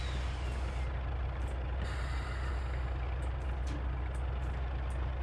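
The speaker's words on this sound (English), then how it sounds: "So I lost some points there for putting emergency brake on" A Class 35 diesel locomotive's emergency brake in Train Simulator 2020 gives a steady loud hiss of air over a constant low engine rumble, with a few faint short tones on top.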